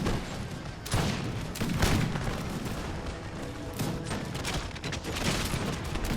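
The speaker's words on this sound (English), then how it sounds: "Now these guys are about to get some canister shot" Heavy artillery volleys and booming fire in an American Revolution strategy battle game, canister shot and howitzers blasting in a dense, continuous roar with repeated sharp reports throughout.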